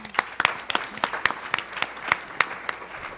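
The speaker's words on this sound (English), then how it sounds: "Please give her a round of applause." Sparse, distinct handclaps from an audience at an education summit panel, about ten claps spread evenly over three seconds, moderately close and without talk.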